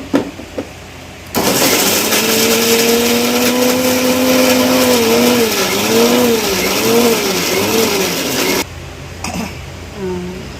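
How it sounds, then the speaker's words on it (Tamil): A kitchen mixer grinder whirs loudly as it grinds garlic, coconut and curry leaves into masala for a village-style country chicken curry, a steady motor drone with wavering pitch that starts abruptly and cuts off after about seven seconds. "நல்லா அரைச்சாச்சு."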